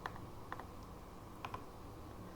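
Quiet computer keyboard typing while entering a search word in a text editor program: a few sparse key clicks in short clusters over a steady background hiss, with no talking.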